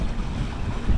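Wind gusts buffet the microphone on a boat for one short second, a loud, low, rushing roar with faint water noise beneath.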